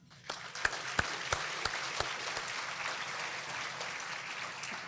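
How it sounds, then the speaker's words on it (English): A chamber of commerce annual meeting audience breaks into fairly quiet applause, beginning with a few distinct, sharp claps that quickly merge into a soft, steady patter. "Please join me in giving them a round of applause."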